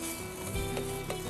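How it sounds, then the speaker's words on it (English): Minced meat sizzles loudly in a frying pan, with scraping bursts each time it is stirred and kept from sticking, up close and without talk. "just gonna mix, keep mixing this. You don't want this to stick to the frying pan"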